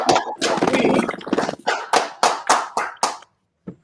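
Group of people clapping hands during a live show opening, dense applause giving way to several separated rhythmic claps before a brief pause and one final clap.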